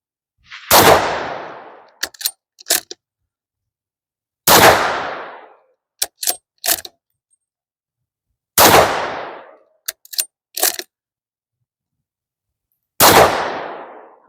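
A Howa MVP rifle fires Winchester White Box supersonic rounds outdoors: four loud, sharp unsuppressed shots spaced several seconds apart, each trailed by quick metallic bolt-cycling clicks, in otherwise silent surroundings.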